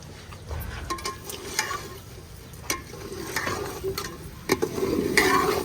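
A spoon stirs and mixes curry frying in a pot, with scraping strokes over a steady sizzle, close and clear, no voices.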